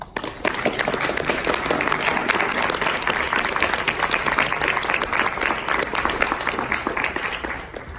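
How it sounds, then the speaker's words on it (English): A conference audience gives sustained applause welcoming a speaker to the stage, a steady, even wash of many hands clapping for about eight seconds with little other sound. "Please join me in giving a round of applause to Rhoda Hornstein."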